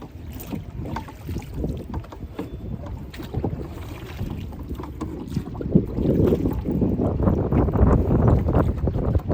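Strong outdoor wind buffets the microphone in continuous rumbling gusts, loud and close, with no speech, growing heavier toward the end.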